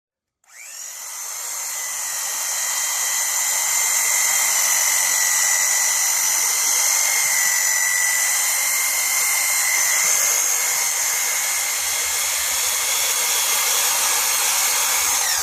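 A large power drill whines at a high, steady pitch on an RV roof, starting abruptly and running continuously at close range.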